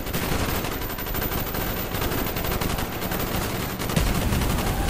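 Call of Duty Black Ops gunfire in a Cuban street fight, loud continuous automatic bursts as covering fire, rapid rattling shots layered over one another without pause.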